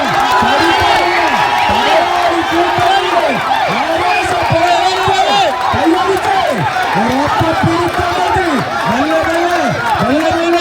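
Crowd cheering and clapping at a vadamvali tug-of-war match in Kollam between teams Black Shadow Muthipara and Hercules Vembayam, loud and continuous for the whole stretch with whoops and dense, rhythmic crowd noise.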